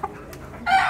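A fighting rooster crows in a short, fairly loud burst after a moment of low background noise, with no one talking.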